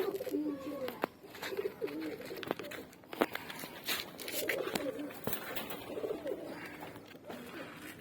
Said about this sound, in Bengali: পায়রা দেখাচ্ছি আপনাকে